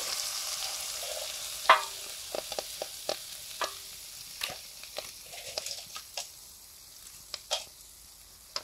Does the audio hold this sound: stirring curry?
yes